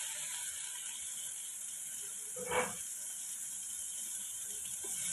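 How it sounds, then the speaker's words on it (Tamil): Capsicum, onion and half a tomato sauté lightly in a pan with a steady, soft sizzling hiss throughout, broken by one brief clatter midway. "சும்மா லைட்டாக வதக்கணும்"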